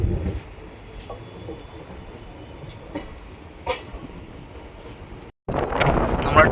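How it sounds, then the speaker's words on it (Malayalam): A diesel locomotive pulls away at an Indian railway station, its low rumble steady under wind buffeting on the microphone, with a few faint clanks and a louder surge of train noise after a brief dropout at the end. "ട്രെയിനിൻ്റെ ലോക്കോമോട്ടീവ് അതങ്ങ് അവിടത്തേക്ക് പോയി"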